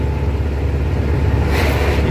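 The diesel engine of a Mercedes 912 truck rumbles loudly and steadily up close while accelerating, a heavy continuous drone with no voices.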